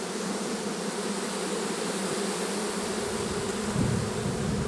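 Dense honeybee buzzing from packed hive frames, a steady loud drone filling the whole stretch, close and continuous with no talk over it.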